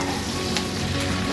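Curry leaves hit hot oil for chilli fish and give a loud, dense, steady sizzle. The crackling hiss fills the short moment close up, with no voices.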